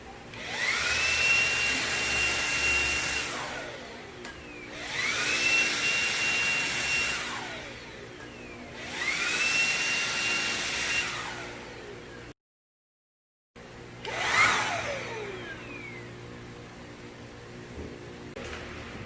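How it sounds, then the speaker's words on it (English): A Xiaomi Dreame V10 cordless vacuum with its mini motorized nozzle runs over a fabric sofa, its loud whine rising and falling in repeated strokes, with a brief silent cut before the last pass. "Now let's test the mini motorized nozzle."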